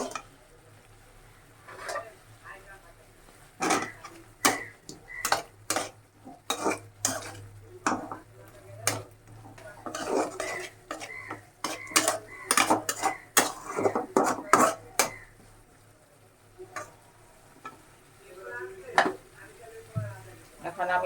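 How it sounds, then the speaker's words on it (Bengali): Fried potatoes go into a pan of cooked-down spice paste for a mustard-paste vegetable dish, with repeated sharp metal clinks and scrapes of a spoon against the pan over a faint low sizzle, close and irregular throughout. "এখন আমি এটার ভিতরে আলু ভেজে রাখছিলাম আলুটা আগে দিয়ে দিব"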